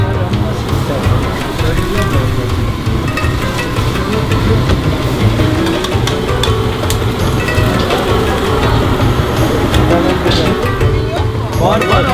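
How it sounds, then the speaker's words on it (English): Light rain patters steadily on a busy Turkish food street, a constant close wash of sound with passing traffic and murmuring voices mixed in throughout. "It has started raining a little bit"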